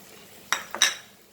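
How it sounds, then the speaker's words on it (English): A spoon scraping and clinking against a metal pot while sugar is stirred into vermicelli kheer with boiled milk, two short close bursts of clatter around a quiet pause. "And now we will add our sugar to this. Slowly stir it."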